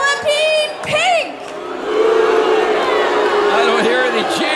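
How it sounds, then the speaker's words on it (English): A crowd jeers at the wrestler Penelope Pink during a women's wrestling show, loud mixed shouting and whooping from many voices that swells and keeps going, with a voice heard briefly over it at the start. "I don't hear any cheers, just a lot of jeering"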